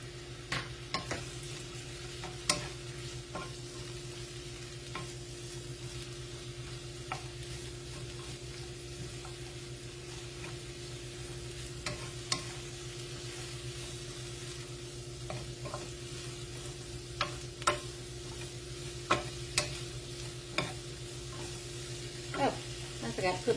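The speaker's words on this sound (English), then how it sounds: "On medium heat, I'm gonna go ahead and saute these for about 5 minutes" Green onions sauté in a pan on medium heat, giving a soft, steady sizzle with occasional utensil scrapes and clicks as they are stirred, faint and close, over a low steady hum.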